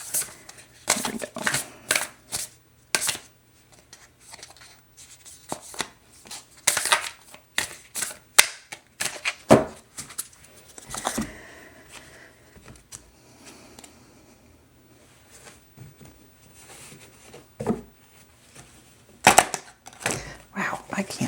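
Rapid bursts of crisp riffling and snapping, as two decks of cards are shuffled together in several quick runs separated by short pauses, close to the microphone.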